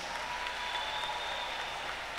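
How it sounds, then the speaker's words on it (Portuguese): An audience at the Portela samba school hall claps steadily for Dona Surica, a dense, even wash of applause lasting a couple of seconds. "Vamos aplaudir Dona Surica,"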